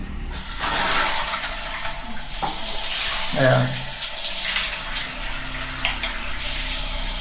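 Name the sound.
shower running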